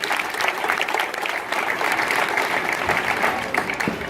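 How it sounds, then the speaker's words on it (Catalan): An audience applauds the students in a loud, sustained round of dense clapping that stays steady and full throughout. "Un aplaudiment per ells"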